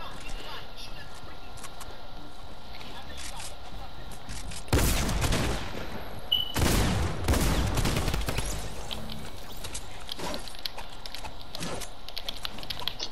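Rapid automatic gunfire in a multiplayer shooter video game, two loud sustained bursts over a constant bed of keyboard clatter and game noise, with players talking throughout.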